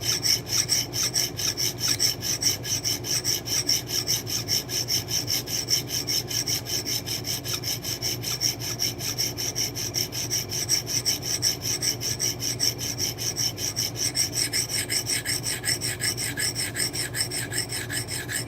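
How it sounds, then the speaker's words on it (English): Small knives sharpened by hand, a steady rasping file-like stroke repeating continuously and fairly close, with a faint constant hum behind it and no talk. "so I'm trying to get these sharpened up"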